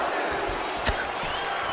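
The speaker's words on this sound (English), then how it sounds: "can you hear the reaction from the crowd as another outside leg kick lands?" Crowd noise in the UFC 4 fighting video game, a steady roar reacting to an outside leg kick, with one sharp impact thud partway through.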